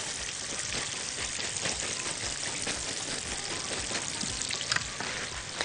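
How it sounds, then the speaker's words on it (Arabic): Breaded brain fries until crispy in hot oil, giving a dense, constant crackling sizzle with fine popping, steady and close throughout with no talking. "الصوت طبعا باين جدا ان الحاجه مقرمشه"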